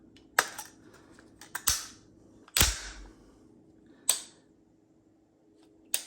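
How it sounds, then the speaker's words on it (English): A Geissele SD Super Dynamic Combat Trigger on a left-handed Stag Arms rifle build is pulled, giving a handful of sharp, close mechanical clicks at irregular intervals with quiet between them. "it's actually open if it's to do a trigger pull on the Geisley SD Super Dynamic Combat Trigger"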